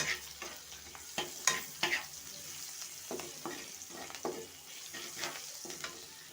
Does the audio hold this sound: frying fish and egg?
yes